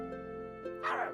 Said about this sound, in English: Sniff barks.